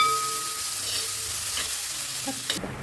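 Ginger and garlic stirred into browned coconut in a hot pan, a close continuous sizzle with scraping stirs, ending in a few louder knocks.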